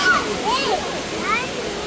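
Rushing water of a waterfall used as a bathing spot in Sri Lanka, a steady broad splash under a person speaking, with brief higher tonal sounds drifting over it.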